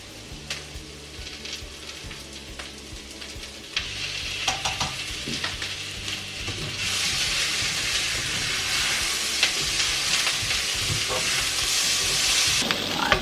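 Minced garlic stirred and frying in a pot for potato soup, a steady sizzle that grows brighter and louder toward the end, punctuated by spoon scrapes and knocks against the pot.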